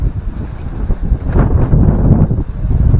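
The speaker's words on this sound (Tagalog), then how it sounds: "medyo mahangin-hangin na." Loud, low wind from an approaching typhoon buffets the microphone in a continuous roar, swelling in gusts throughout with no voices.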